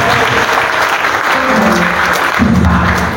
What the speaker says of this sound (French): Acclamons pour notre Dieu.